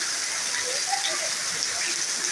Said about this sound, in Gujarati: જો ભાઈ આવો વરસાદ છે.